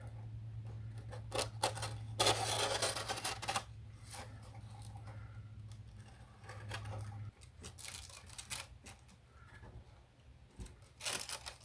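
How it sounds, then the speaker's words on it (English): Scissors snipping tissue covering along the edges of a repaired indoor model Chipmunk aircraft, a run of crisp close cuts and rustles with quieter handling in between, no talking. "So I'm just going to trim the tissue from the edges."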